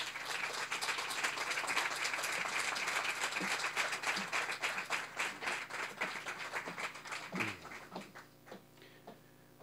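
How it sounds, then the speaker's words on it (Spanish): Fairly quiet applause from an audience at a project presentation at Casa África holds steady, then thins into individual claps and dies away over the last few seconds. "Vamos a darle la bienvenida, por favor, con un fuerte aplauso a don Luis Padrón"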